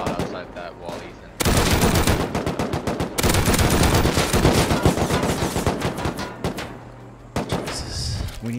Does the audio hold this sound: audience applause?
no